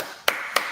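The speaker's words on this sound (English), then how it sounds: "I clap for you." Two single hand claps, sharp and fairly close, spaced about a quarter second apart at a panel discussion on leadership strategy and tactics, with quiet room tone between them.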